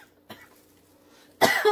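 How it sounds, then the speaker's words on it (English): A short soft cough, then a louder, harsher cough burst near the end, close to the mic. "that gave me coughs"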